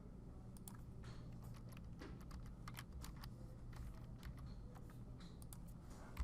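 Fingers type numeric data on a computer keyboard into a graphing program, producing irregular quick key clicks over a low steady hum, close and quiet.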